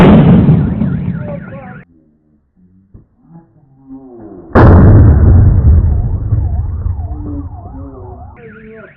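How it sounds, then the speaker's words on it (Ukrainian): An explosion in Ufa: a loud roaring blast that cuts off sharply, quiet with scattered sounds, then a second sudden blast with rumbling roar, with rising and falling siren-like wails over both. "Взорвался"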